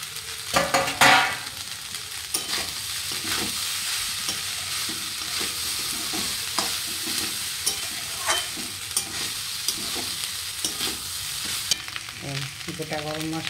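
A utensil stirs fried egg into rice sizzling in a pan, with steady frying hiss and repeated scraping strokes of the spoon against the pan, close and continuous without talk.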